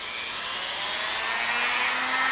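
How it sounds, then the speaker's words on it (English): A Dremel rotary tool set on low speed cuts through craft foam for a helmet build, giving a steady, close, high-pitched whine that holds level and grows slightly louder, with no talking. "I take the Dremel."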